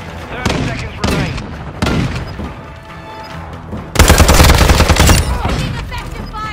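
Gunfire in the video game Modern Warfare 2: loud single shots ring out at intervals, then a sustained burst of rapid automatic fire, with brief voices in between.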